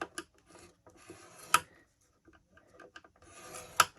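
A paper box being scored along measured lines gives faint, scratchy rubbing strokes, with a few sharper clicks and scrapes spaced irregularly across the quiet background.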